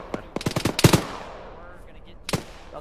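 Gunfire in the ShackTac Arma military game: a rapid cluster of sharp automatic shots, loud and close, then a pause and a final short burst.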